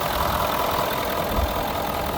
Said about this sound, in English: diesel engine running.